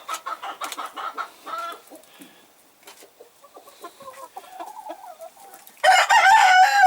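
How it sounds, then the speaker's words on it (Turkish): Young Denizli roosters cluck and chatter close by inside a coop, short broken calls, ending with a louder burst of squawking crow attempts. "horozlarımın yanındayım"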